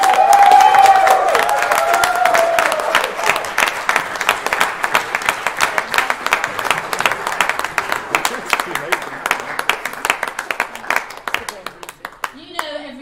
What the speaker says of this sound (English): receive the round of applause you so rightly deserve